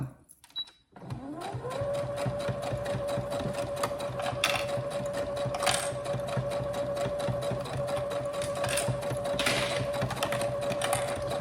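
A sewing machine topstitches 1.5 cm from the fabric edge while sewing a baby's burp shoulder protector. It starts up after a brief pause, then runs at a steady, even hum with a rapid needle clatter for the rest of the stretch, with no voice over it.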